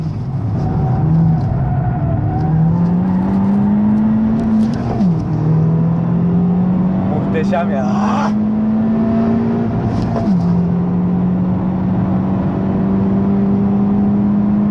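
A Honda Civic Type-R FK2 engine pulls hard on a test drive, a loud steady rising drone with two quick upshift dips, tyre and wind roar beneath and a brief spoken exclamation.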